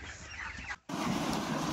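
Chickens on a poultry farm in hot weather cluck and rustle at close range, with a brief drop to near silence partway through before the flock noise returns louder.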